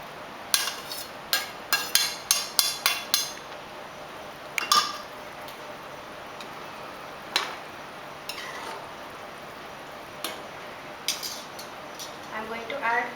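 Fried lady's finger goes into a pan of bhindi masala gravy with quick clinks of a metal spoon against the pan, a rapid cluster first, then sparser taps and scrapes with a soft wet stir.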